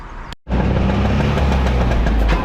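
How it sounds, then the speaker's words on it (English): A car engine runs steadily while driving through traffic on the way into Great Yarmouth, a close, continuous low rumble with a brief dropout at the start and no talking. "I hope I ain't got to keep my revs high all through this traffic"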